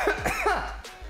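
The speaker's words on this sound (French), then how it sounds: "Ah, ça y est, ça me fait tousser." A man coughs several times in quick succession, close and fairly loud, during a French morning workout coaching session.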